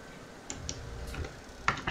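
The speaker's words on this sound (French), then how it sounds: "Désolé si vous entendez des bruits extérieurs, comme ma souris." A computer mouse clicks a few times, faint and close, with sparse sharp ticks against a quiet room background.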